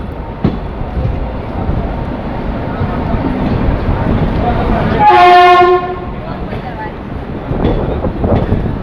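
A new local passenger train from Rajkot to Porbandar on its first day at Bhaktinagar railway station rumbles past loudly and close, with a long horn blast partway through and wheel clatter around it.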